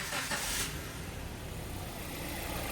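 Maruti Suzuki Ertiga engine, restarted after an idle-noise fix, settling into a smooth, even idle; a brief louder burst at the restart gives way to a quiet, steady hum with no knocking.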